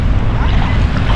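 Sea surf at a beach, a loud, dense rush of breaking waves and wind buffeting the microphone, with no voices over it.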